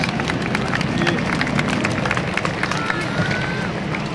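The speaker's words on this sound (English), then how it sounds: "Nice round of applause for the Aerostars" Airshow crowd applauds the Aerostars at the 2010 Blue Angels Homecoming after their line abreast loop, a broad wash of clapping and hubbub heard from within an open-air audience, steady throughout with scattered voices mixed in.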